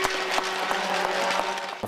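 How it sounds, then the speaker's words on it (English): Crowd applause for hockey player Mark Letestu during a jersey number retirement ceremony, a steady wash of clapping in a large arena that holds evenly throughout. "Give a nice round of applause to Mr."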